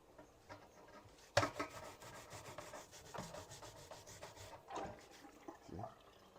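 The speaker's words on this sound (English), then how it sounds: "I rub it on the grater and cuts it down nicely." Green plantain rubbed on a grater, a soft rasping scrape repeated in uneven strokes, close and fairly quiet, after a sharp knock at the start.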